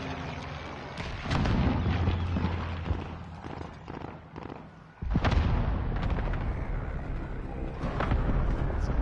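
Gunfire and explosions fill a console shooter game, with dense, loud bursts of shots and booms, a brief dip, then a sharp blast followed by more heavy firing.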